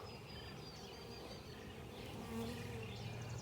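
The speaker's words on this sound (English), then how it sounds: "So, of course, now the bees are checking me out this morning." A dense, steady hum of many honeybees buzzing close by around a hive, continuous and fairly loud, with no voices.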